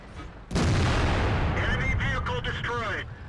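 A single heavy cannon blast from the WZ-120 tank in World of Tanks, a sharp loud boom followed by a long rumbling decay with mechanical clanks and a voice briefly underneath.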